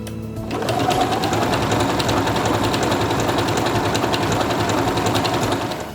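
A Quantum Stylist 9960 sewing machine stitches out a mirrored decorative pattern, starting after a brief pause and then running as a steady, fast, even whir of needle strokes at close range, with no voices.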